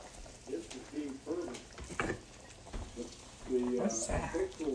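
Food frying and sizzling in a pan after coconut milk is added, a soft steady crackle with occasional stirring scrapes, partly under a voice talking.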